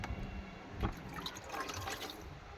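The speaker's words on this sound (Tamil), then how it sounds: "நல்லா கழுவி 3 தண்ணி அலசுங்க." Wheat grains are rinsed by hand in water to wash out stones and dirt, with close sloshing, swishing and trickling water and one louder splash partway through.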